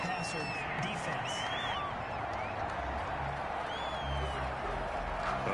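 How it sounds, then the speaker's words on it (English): A steady, continuous roar from a stadium crowd in the Madden 21 American football video game, reacting to a roughing-the-passer penalty call during a 49ers vs Raiders matchup, holding at an even level throughout. "Well, this crowd does not like that call."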